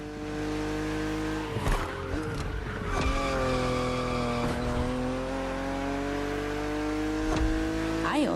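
A BMW Z4 E89 driving in The Crew Motorfest, its engine revving and droning steadily with gear changes, close and loud, with brief tire squeals and skids along the way.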